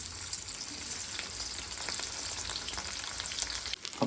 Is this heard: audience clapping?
no